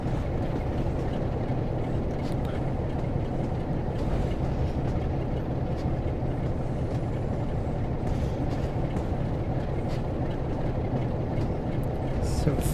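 A train in Train Sim World 3 pulls slowly out of Leeds with a continuous low rumble and engine drone, steady and close throughout, with faint clicks on top.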